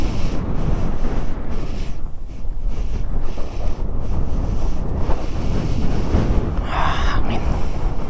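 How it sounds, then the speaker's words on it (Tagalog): Strong wind buffeting the microphone at a sandy seaside spot, a continuous loud roaring rush with gusts over the wash of waves, with no voices. "Hangin."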